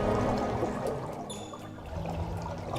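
Water flowing through pipes beneath the roads in the SimCity video game, a steady trickling, pouring wash that runs continuously from start to finish with no talk over it.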